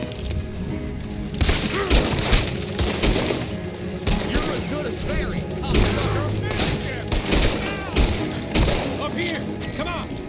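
Repeated gunfire in Red Dead Redemption 2 during a chaotic town shootout, sharp shots and thuds cracking out in irregular bursts under frequent shouted talk and game music.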